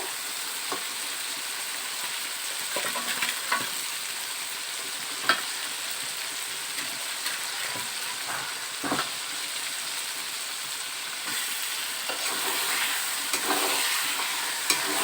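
Fried chicken pieces are stirred with spices and whole garlic in a hot pan: a continuous close sizzle with scattered scrapes and clicks from the spoon, and no voices.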